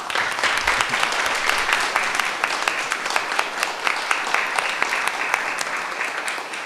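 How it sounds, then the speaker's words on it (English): Audience at a Bastrop city council meeting breaks into loud, sustained applause, dense overlapping claps filling the room evenly from start to finish. "Let's give this young man a round of applause."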